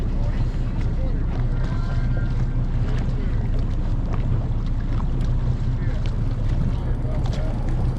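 A bass tournament boat motors over Kentucky Lake, engine drone steady beneath wind noise and splashing, with faint voices mixed into the continuous roar.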